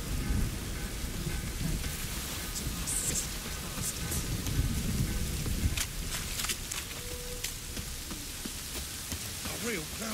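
Heavy cloudburst with thunder in The Witcher 3, a loud continuous hiss of pouring rain with deep rolling thunder and scattered sharp drips and splashes nearby.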